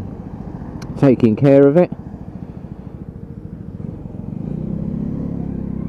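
A Lexmoto Riot motorcycle engine putters steadily while being ridden, a low pulsing rumble that sits under a brief spoken phrase, then swells into a slightly louder, rougher drone.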